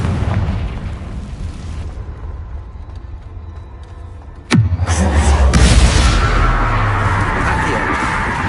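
A Confringo blasting spell explodes in a cave in the game Hogwarts Legacy: one loud sudden boom with a falling rumble that rolls on into a long roaring, crackling tail.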